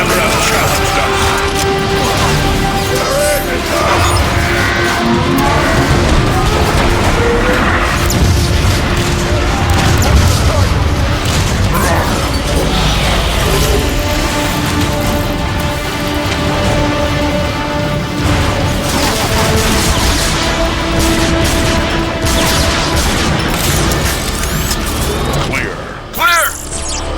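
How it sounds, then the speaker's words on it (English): Warp cannon shelling in Transformers: Fall of Cybertron: heavy booms and crashing impacts rumble continuously over a loud, busy mix of game noise for the whole stretch. "Shelled pretty bad by those warp cannons"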